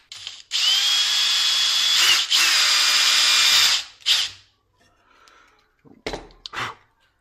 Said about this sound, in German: Jetzt werde ich hier einmal wieder ein kleines Loch bohren.